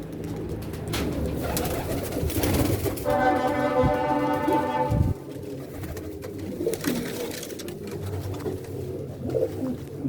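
Pigeons coo near and clear after being released outdoors, a run of soft rhythmic coos rising to a sustained harmonic call midway, with faint background ambience and no talk.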